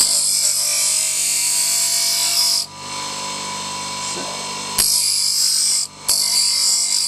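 ABS plastic of a motorcycle bar end mirror being ground down with a power tool in a garage, a loud close whine in long bursts that dips and stops briefly twice before resuming.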